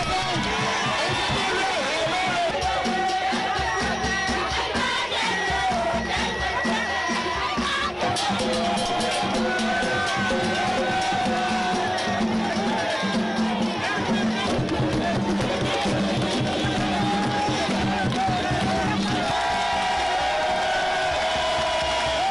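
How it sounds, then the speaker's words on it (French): A dense, jubilant crowd roars continuously outdoors as the president of the Republic arrives for a traditional walkabout in Koumban, Guinea, with a steady wash of cheering and shouting that never drops out. "le chef de l'État est accueilli par une foule en liesse"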